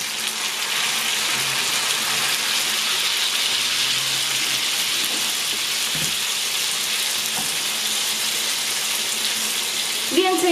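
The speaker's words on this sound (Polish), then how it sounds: "wleję tutaj dosłownie 4-5 łyżek gotującej się praktycznie wody w rząd" Nearly boiling water poured into a pan of roasted onion, giving a steady broadband hiss and sizzle that runs the whole time at even loudness, with a brief splash near the end and no talk.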